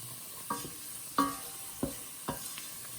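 Red pepper flakes and dried thyme stirred into sizzling celery, jalapeno peppers and red onions, a soft steady sizzle with four distinct spoon scrapes against the pan, close and alone.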